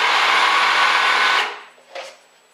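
A blender whirls gluten-free dry ingredients for apple pie, a loud steady whir for about a second and a half that then stops, followed by a faint brief clunk.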